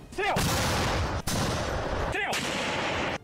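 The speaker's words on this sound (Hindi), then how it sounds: "दूसरे ने उसमें बंधी रस्सी को खींचा, जिसके बाद वहां जोरदार धमाका हुआ" Two loud booming blasts from an artillery launcher, each followed by a long rumbling roar, close and powerful.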